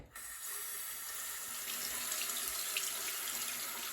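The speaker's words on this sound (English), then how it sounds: "let's go rinse these off and then see the finished product" Tap water running over a laser-engraved glass being rinsed at a sink, a steady splashing hiss starting abruptly, close and soft, with no talking.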